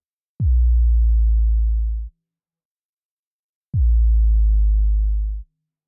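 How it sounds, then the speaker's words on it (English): Two deep, booming 808-style sine-wave sub-bass drops, each sliding down in pitch and holding for about two seconds before stopping abruptly, separated by silence. "Starting with this 808 inspired sub drop."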